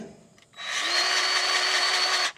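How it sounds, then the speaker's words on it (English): A grease gun pumps grease into tractor fittings with a close, loud, steady whirring buzz that starts abruptly, holds for about two seconds and stops. "Pump a lot of grease in there."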